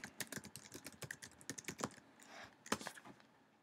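Rapid typing on a computer keyboard, a quick uneven run of soft, close key clicks and taps, quiet and with no talk.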